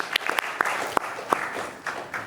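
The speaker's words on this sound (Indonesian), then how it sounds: "kita beri tepuk tangan buat generasi Z yang terus bersuara" Audience applause in a public discussion honouring Generation Z, a brief patchy burst of clapping with scattered sharp claps, moderately loud and fairly close.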